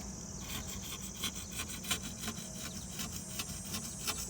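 A razor blade scrapes calcium deposit off a fish tank lid in quick, repeated rasping strokes, a steady rhythmic scratching close up with no voices.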